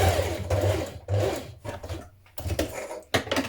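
A sewing machine understitches around the bottom facing of a dress hem, running in steady motor bursts with brief pauses and restarts, close and fairly loud with no talking.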